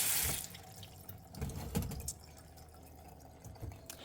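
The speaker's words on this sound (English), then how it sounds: "I'm going to rinse them very well, and then I'm going to let them dry." Tap water runs steadily into a kitchen sink while potatoes are rinsed for sautéing, a close splashing stream with a few brief louder surges and drips.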